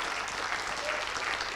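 Audience applause at the PSL 2018 final of the Ma Thèse en 180 secondes science-communication contest, a dense, steady wash of clapping from a crowd that continues without a break.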